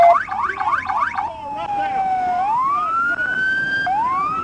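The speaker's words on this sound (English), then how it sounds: "Get your siren off!" Police car siren from an Arkansas pursuit of a fleeing Jeep, rapid yelping wail first, then a long rising and falling tone, loud and close, running continuously for several seconds with no talk over it.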